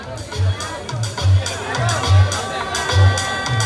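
A crowd cheers and claps for a victorious Govinda team of young men at a 2024 Dahi Handi celebration in Bhandup, loud and continuous with repeated rhythmic bursts, under an announcer's voice.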